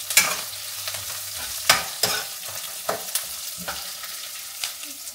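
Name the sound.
frying ingredients in a pan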